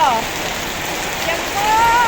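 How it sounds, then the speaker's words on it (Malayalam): Steady, heavy rain pours down in a dense, even hiss, with faint voices briefly audible at the start and end. "നല്ല മഴ ആണ് നോക്ക് നല്ല കാറ്റായിരുന്നു കേട്ടോ"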